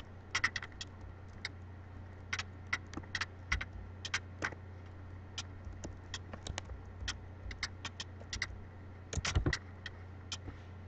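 Typing on a computer keyboard: a run of sharp, close key clicks in irregular bursts and pauses over a steady low hum, no voices.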